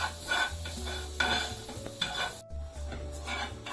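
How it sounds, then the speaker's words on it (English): Finely chopped onions fry in a pan with a soft continuous sizzle while a utensil stirs and scrapes them in repeated strokes, close up with no speech. "When you're frying onions this fine, you've got to make sure you keep them moving, otherwise they're likely to stick."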